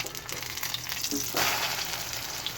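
Egg omelette frying in a pan, a steady close sizzle that swells briefly around the moment it is flipped, with no talking.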